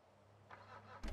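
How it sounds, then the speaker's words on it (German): A car engine cranks and catches in a roleplay video game, first a faint mechanical rattle, then a sudden loud low rumble as it fires up at the end. "warum machst du den Motor wieder an?"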